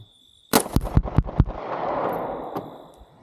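Glock 43X pistol firing Federal HST 147 grain rounds outdoors: five sharp, loud shots in quick succession, each a hard crack, followed by a lingering rumbling echo and a faint metallic clink.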